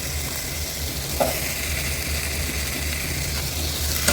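Squash sautéed and stirred in a pan sizzles steadily up close, with an occasional light utensil tap breaking through the continuous frying hiss.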